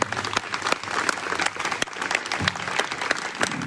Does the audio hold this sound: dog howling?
no